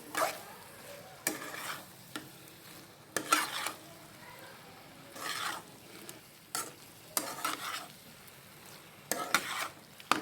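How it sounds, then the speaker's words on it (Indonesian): An egg mixture is stirred in a frying pan with intermittent spatula scrapes and soft sizzling in irregular bursts, close and fairly quiet. "Kita aduk sampai rata. Pastikan telurnya matang ya teman-teman, sampai dia teraduk tercampur."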